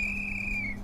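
A single long, steady whistle note holds for nearly a second at night, clear and fairly loud over a low constant hum, with no talking.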